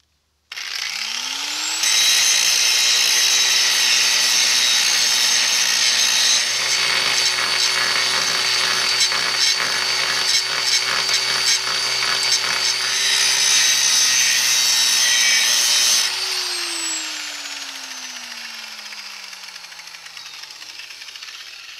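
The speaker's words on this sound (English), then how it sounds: "And with an angle grinder, you know, as long as you hold it sensibly, they're not too bad for that." An angle grinder cuts metal on a narrowboat, spinning up with a rising whine into a loud, harsh, sustained grinding screech for about fifteen seconds, then winding down as the pitch falls away.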